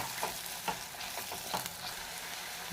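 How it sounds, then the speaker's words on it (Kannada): Onions fry in a pan for a spicy chili-powder chutney, giving a steady close sizzle broken by several soft scraping strokes of a spoon stirring the pan. "ಈರುಳ್ಳಿ ಚೆನ್ನಾಗಿ ಬೇಯಬೇಕು ಫ್ರೈ"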